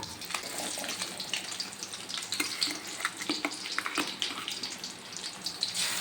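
Fish frying in oil in a pan, a steady crackling sizzle with scattered sharper pops running throughout at moderate loudness, no voices.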